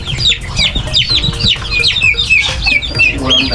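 Chickens cluck busily and constantly at a poultry farm, a dense overlapping chorus of close, loud clucks and squawks with no pauses.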